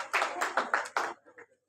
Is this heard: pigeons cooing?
no